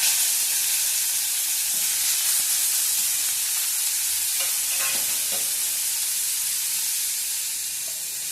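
Pointed gourd frying in oil with spices, no turmeric, a steady close sizzle and hiss throughout with a few faint stirring scrapes, easing slightly toward the end.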